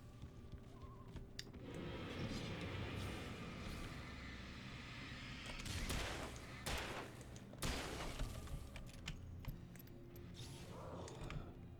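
Gunfire in the Alan Wake video game, a run of sharp shots and bursts scattered over dense, loud game ambience and music, with the heaviest cracks falling midway through.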